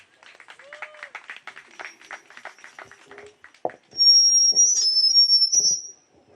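An audience at a memorial event applauds with loud piercing whistles over the clapping. Sparse scattered claps come first, then a dense burst of applause with long shrill whistles that lasts about two seconds before cutting off.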